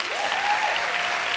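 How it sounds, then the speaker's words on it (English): Audience applause for musicians presenting the closing act at a peace lecture, a dense, steady wash of clapping that holds at an even level throughout. "Please give them a round of applause."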